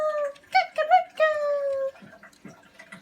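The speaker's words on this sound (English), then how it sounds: "That's my doggy, the loyal one." A pet dog whimpers and whines in drawn-out, high, wavering cries close by, followed by softer snuffling and faint background sounds in a home setting.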